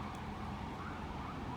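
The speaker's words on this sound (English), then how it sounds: "Oh, so annoying with the sirens" Wailing emergency sirens sound continuously at a distance, blended with steady traffic rumble.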